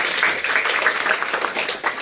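An audience at a district council laptop distribution ceremony for meritorious students applauds, a dense, steady patter of many hands clapping at once, loud and close, with no voices standing out.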